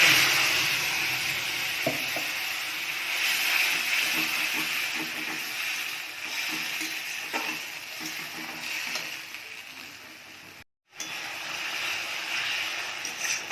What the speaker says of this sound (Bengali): আর হচ্ছে গোটা জিরে ফোড়ন দিচ্ছি।